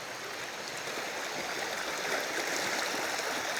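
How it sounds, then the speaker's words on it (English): River water rushing and splashing around someone wading against a strong current in the wild, a steady broadband roar with constant churning, close and loud throughout. "It's more just the water that's splashing up with the resistance."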